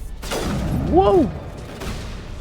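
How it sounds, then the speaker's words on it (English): A heavy boom with a whooshing, rising-and-falling sweep hits in the middle of a combat scene in Mass Effect 1 Legendary Edition, fairly loud and close amid the action. "That's a large explosion there, bucko."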